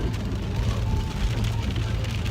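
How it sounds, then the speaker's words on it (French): Heavy rain falls outside during a food-delivery shift, a steady, dense wash of broadband hiss that holds at an even level for the full stretch, with no voices. "il pleut beaucoup"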